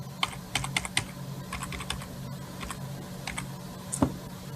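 Computer keyboard arrow keys tapped in short, irregular clicks while stepping frame by frame through rotoscoping work, a clear run of quiet keystrokes with a louder press near the end and no talk.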